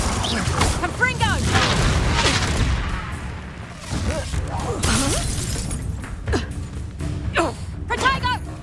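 A Confringo blasting spell bursts in Hogwarts Legacy, with shattering, booming impacts in the middle of busy spell-combat effects while voices talk over the fight.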